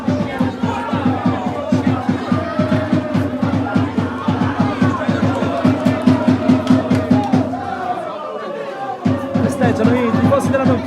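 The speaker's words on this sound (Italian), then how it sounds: "Festeggiano i tifosi della Don Carlo." Football supporters of Don Carlo Misilmeri cheer and chant in the stands at an Eccellenza Sicilia match, a loud rhythmic crowd roar with steady pulsing claps or chants, briefly dipping before swelling again.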